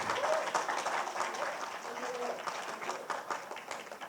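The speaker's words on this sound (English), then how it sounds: "Please give a warm round of applause to Commissioner Lin" An audience at a youth camp presentation gives Commissioner Lin steady, moderately loud applause that continues for about four seconds, a dense wash of many hands clapping with a brief voice in the middle.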